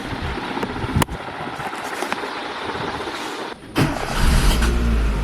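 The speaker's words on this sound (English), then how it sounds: "hopefully we'll start the car and see how it goes" A Proton Savvy that has been undrivable for two months, after a clutch pump repair, cranks with sharp clicks and a brief pause, then catches and settles into a louder, steady engine hum close by.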